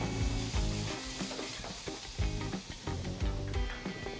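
Shrimp sizzle in a hot pan for a scampi dish, a steady frying hiss with stirring and clinks of a utensil in the pan over background music, close and moderately loud.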